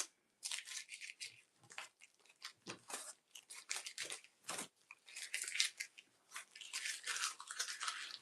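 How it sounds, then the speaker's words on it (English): Tape is peeled off a quilted fabric piece for a cosmetic bag, giving close, crackling, ripping sounds in short, repeated pulls. "I'm going to just take this tape off"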